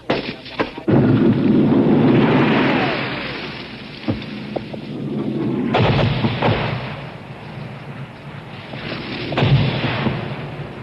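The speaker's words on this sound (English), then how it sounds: "The platoon leader radios for artillery support from U.S." Artillery fire from U.S. gun emplacements a few miles away during fighting in the Vietnam War, 1968: heavy distant booms and rolling rumbles repeating over a long stretch, loud and reverberant.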